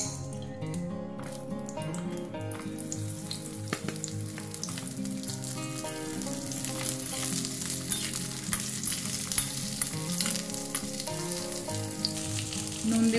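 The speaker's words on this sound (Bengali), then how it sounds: "এবার এই তেলের মধ্যে পটলগুলো ভেজে নেব।" Pieces of pointed gourd fry in hot mustard oil, giving a dense, continuous sizzle with crackles and stirring sounds throughout, close and steady.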